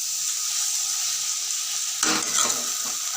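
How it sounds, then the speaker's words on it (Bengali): Shrimp stirred and frying in a hot wok, a steady sizzle throughout with a burst of louder scraping and spatter near the end as the pieces are moved. "চিংড়ি মাছটা দিয়ে একটু গ্যাসটা বাড়িয়ে নাড়তে থাকবো"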